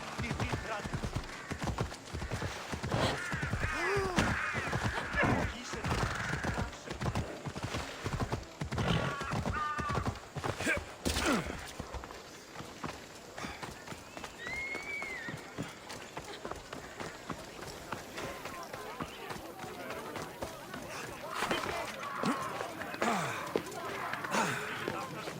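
Galloping horse hooves in Assassin's Creed Odyssey, a steady rapid clip-clop rhythm close by with occasional whinnies and snorts, running under game voices and battle ambience.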